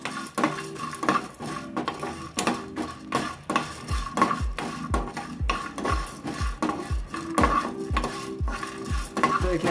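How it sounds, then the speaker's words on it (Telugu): Cashews and almonds dry-roast in a pan without oil, stirred by a spoon in quick, rhythmic scrapes and rattles that repeat steadily and close up. "ఐదు జీడిపప్పు, 5 బాదం పప్పులు అండి. దీంట్లోనే వేసుకోవాలి, ఫ్రై అవుతాయి. ఆయిల్ లేకుండా అన్నీ ఫ్రై చేసుకోవాలి."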